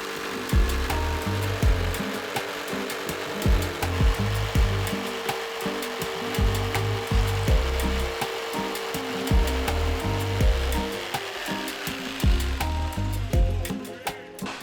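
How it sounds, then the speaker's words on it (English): A jigsaw cuts slowly and steadily through wood for large cabinets, a loud buzzing saw with a rhythmic pulsing pattern that continues throughout. "I really just eyeball this with a jigsaw and go slow and steady."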